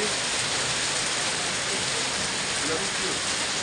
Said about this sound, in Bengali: ভরপুর শিলা বৃষ্টি হচ্ছে